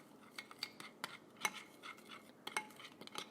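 Faint clinks and scrapes of a utensil stirring an olive oil marinade in a bowl, irregular taps close up in a quiet kitchen.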